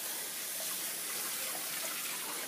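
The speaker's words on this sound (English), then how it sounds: "We're going to wash the pan." A pan is washed under a steady stream of running tap water, a continuous broadband rush at moderate level throughout, with no voices.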